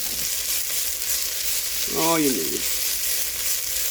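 Beef stew ingredients with tomato paste sizzle in a pot as they are stirred and browned, a steady fry with a brief scraping swirl midway and a short spoken phrase.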